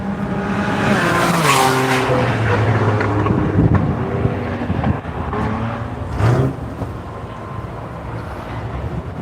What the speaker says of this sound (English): Looks like Ed Gliss coming at us in the Type R.